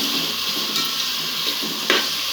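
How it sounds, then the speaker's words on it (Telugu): Tomatoes and carrots being stirred in a hot pan, a steady sizzle with a few scraping spoon strokes over about two seconds, no voices. "టమాటోస్, క్యారెట్, ఇవన్నీ ఒకసారి బాగా మిక్స్ చేయాలి."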